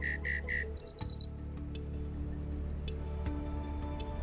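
Birds chirp and sing: a few bright repeated tweets open, then a quick run of higher chirps, followed by scattered short calls over a steady low background hum.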